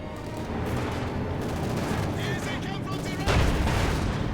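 Tank cannon fire from a Panzer IV and a StuG in the Company of Heroes 2 strategy game, set in a mix of rumbling battle noise and gunfire, with a sharp louder blast near the end.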